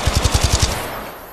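Automatic weapon fire in the shooter game Apex Legends: a rapid burst of about seven evenly spaced, punchy shots, close and loud, followed by a short decaying tail.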